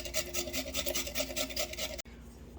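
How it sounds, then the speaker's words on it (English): A cucumber is rubbed back and forth on a grater over a cheesecloth-lined container. Close, steady rasping shreds for about two seconds, then stops abruptly. "now that my cucumber is shredded"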